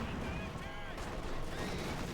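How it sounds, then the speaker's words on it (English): Dense gunfire from the World War II strategy game Company of Heroes 2, with anti-tank fire massed in a sustained, loud barrage of overlapping shots. It plays continuously throughout, with commentary likely mixed in. "He is met with a vicious front of anti-tank gunfire here from the Germans."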